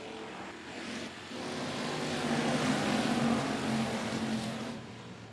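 Stock cars run a factory stock heat race at 105 Speedway: a continuous, broad engine roar that swells in the middle and eases slightly toward the end.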